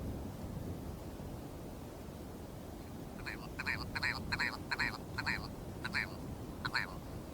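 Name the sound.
rock ptarmigan calling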